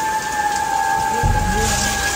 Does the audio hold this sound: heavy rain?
yes